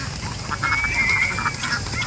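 Ducks being moved from a poultry house into a pen quack in a short cluster, moderately close over a steady outdoor background.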